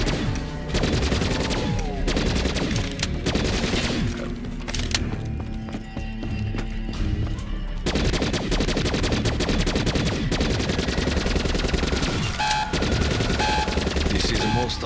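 Rapid gunfire and weapon blasts from the Call of Duty: Black Ops III zombies map Gorod Krovi, dense and continuous over a busy game mix with frequent shot bursts throughout.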